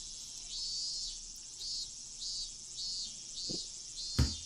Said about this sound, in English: those cicadas are sure crying about something